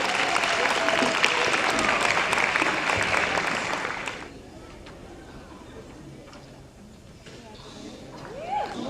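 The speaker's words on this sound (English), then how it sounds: "So let us give her a round of applause to Jasmine Johnson, her first place winner." An audience at a symposium awards ceremony applauds the first-place winner with loud, sustained clapping for about four seconds, which then fades to faint room noise with scattered small sounds.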